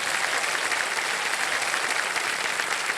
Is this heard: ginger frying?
no